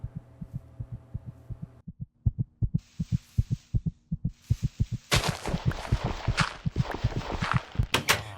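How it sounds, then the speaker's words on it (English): A heartbeat sound effect in the Minecraft video game thumps in a steady, loud double-beat rhythm throughout, with a low hum at first and hissing, crackling game noise joining over the later beats. "There's even like a heartbeat sound with it."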